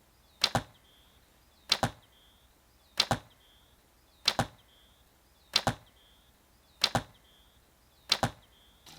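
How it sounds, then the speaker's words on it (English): Longbow loosing an arrow too stiff for the bow: seven sharp twangy shots with a quick thud each, evenly spaced about 1.3 seconds apart, close and clear with no talk. "this is an example of an arrow that doesn't match the bow. It's too stiff"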